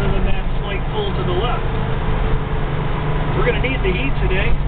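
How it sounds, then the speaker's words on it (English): Low engine rumble from a 1967 Pontiac GTO driving on a cold day in Michigan, a steady loud drone heard from inside the car beneath people talking. "Car's got a nice rumble to it."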